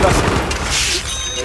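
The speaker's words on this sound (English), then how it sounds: "I'm throwing a grenade!" Grenade blast in Battlefield 3, a loud broadband boom with rumbling debris that fills the whole short moment up close.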